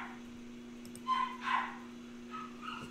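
A dog barks indoors at a house, two short yips close by over a steady electrical hum, then fainter whimpering sounds trail off.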